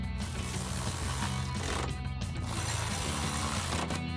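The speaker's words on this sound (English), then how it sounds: "grab our ratchet, 13mm socket, and tighten them down" A ratchet with a 13mm socket tightens bolts for step bars on a 2024-2025 Toyota Tacoma, a close, continuous rapid clicking that keeps going with a few brief stops under a dense mechanical buzz.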